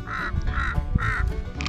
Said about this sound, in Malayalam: ഇവിടുത്തെ കാക്കയുടെ സൗണ്ട് കേട്ടോ.